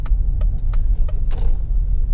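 A Mercedes-Benz C320 CDI Avantgarde 7G-Tronic turns on the road: a low, steady diesel engine rumble runs throughout, with light regular ticking clicks on top.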